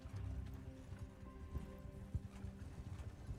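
A horse charges in the medieval combat game Mount & Blade II: Bannerlord, with a rapid, continuous clatter of galloping hooves close up, a low rumble and a few sharper thuds, and no talk over it.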